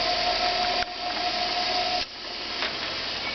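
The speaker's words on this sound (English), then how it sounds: "we're going to bring on the slotting attachment. As you can see, it just strokes up and down." The slotting attachment of a Cincinnati Toolmaster vertical milling machine strokes up and down with a steady mechanical whir and rattle. It is close and loud, and the tone shifts abruptly twice as the motion changes.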